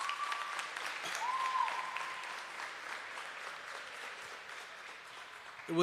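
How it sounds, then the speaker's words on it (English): An audience applauds the students of a Grade 6 academic bowl in a steady, full round of clapping that carries through evenly before tapering slightly at the end. "I think the students who participated tonight deserve another round of applause"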